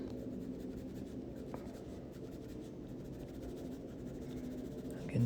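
Pencil shading a water dragon drawing on paper, a steady close scratching with quick repeated strokes, soft and continuous, no talking.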